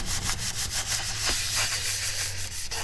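Steady close rasping as a glued edge of a handmade corset catalog is trimmed down, with a quick repeated scraping rhythm running throughout.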